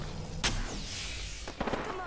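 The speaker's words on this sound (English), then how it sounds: "My teammate shooting." Gunfire from a teammate in the shooter game Apex Legends, a sharp shot at first followed by a burst of several quick cracks over a busy game soundscape.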